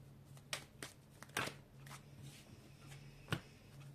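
Playing cards shuffled and drawn at a table, a run of soft riffles, flicks and slaps, close and quiet, with no talking.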